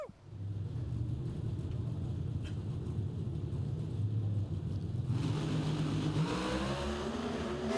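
Drag racing cars at the Charlotte 4-Wide Nationals launching at full throttle, a dense, loud rumbling roar that builds and grows harsher midway as the cars pull away, with no talk over it.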